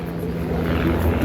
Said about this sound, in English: airplane, like a real one